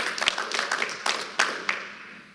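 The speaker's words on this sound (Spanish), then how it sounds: "Podemos dar un fuerte aplauso al Señor por lo que estamos recibiendo." Scattered hand claps from a church congregation, a loose burst of applause with several sharp claps standing out, fading within a couple of seconds.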